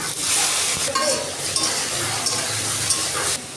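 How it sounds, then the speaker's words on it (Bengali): Red amaranth greens sizzling in a pan of hot oil with onion and chili, a steady hiss with a few stirring scrapes, close and fairly loud throughout. "এখন আমি একটু তেল দিয়ে দিলাম পেঁয়াজ দিয়ে দিলাম এখন আমি শাকটা দিয়ে দিলাম"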